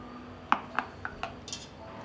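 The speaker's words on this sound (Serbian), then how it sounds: "unutra ću poređati tegle" Glass canning jars are set one by one into a pot lined with a cloth, giving five or six distinct clinks in a quick, uneven sequence, close and fairly crisp in a quiet kitchen.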